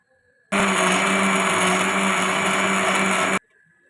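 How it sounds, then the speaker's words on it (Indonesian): A blender grinding spices with a little water roars loudly and steadily for about three seconds, switching on and off abruptly, with no talking. "kita blender dulu bumbu-bumbunya dengan sedikit air ya"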